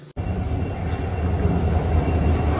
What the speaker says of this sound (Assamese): আৰু এইফালে আমাৰ আহি গ'ল ট্ৰেইন